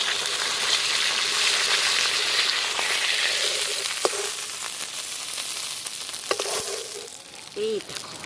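A large fish head frying in hot oil gives a steady, loud sizzle throughout, with a few faint clinks and scrapes near the end.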